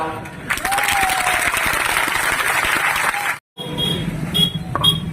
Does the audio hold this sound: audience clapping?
yes